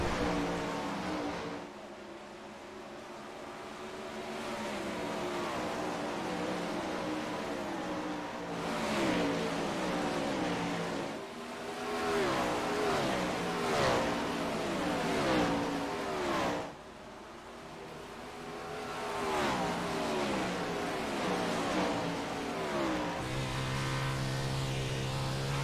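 A race car engine in a sim racing league race roars steadily at full throttle, its pitch climbing and dropping through gear changes and corners, loud and continuous throughout with brief lifts, and no talk.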